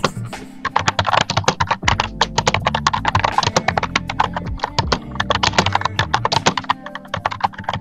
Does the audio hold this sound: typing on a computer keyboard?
yes